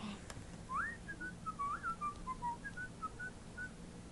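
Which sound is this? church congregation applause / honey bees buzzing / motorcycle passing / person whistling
person whistling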